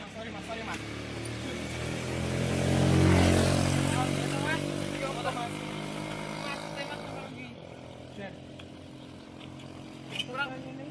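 A motorcycle engine revs up to a loud peak, then settles and cuts to a lower idle, with voices talking over it.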